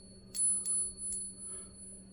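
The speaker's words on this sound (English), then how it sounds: "And if you hit it, it'll ring like a bell." A genuine silver coin struck against another coin rings like a bell, with three quick bright metallic taps, each leaving a high sustained ringing tone, followed by a fainter fourth tap, close and fairly quiet.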